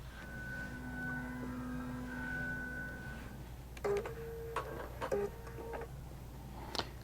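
A QBOT V3 quilting machine stitches with 12-weight thread during appliqué and echo quilting, giving a quiet mechanical run with a tonal whine and then a cluster of clicks and ticks, soft and close.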